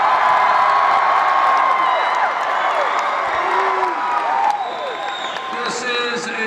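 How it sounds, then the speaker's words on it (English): A large, raucous crowd at a Bernie Sanders rally in the Washington Avenue Armory, Albany, roaring with cheers, whoops and clapping in a dense, sustained wall of sound that eases slightly toward the end. "This is a large crowd, a raucous crowd. And a very loud crowd."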